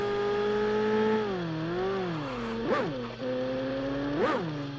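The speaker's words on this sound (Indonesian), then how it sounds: "Suara mobilnya itu selayaknya mobil sport beneran, guys." A McLaren-skinned sports car engine in PUBG Mobile whines and revs, pitch sliding up and down with two sharp rev spikes, heard alone at moderate volume.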